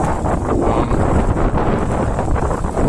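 Strong wind buffets the microphone on foggy, empty Shanghai streets in a steady, roaring rush with no voices, a constant blustery noise throughout.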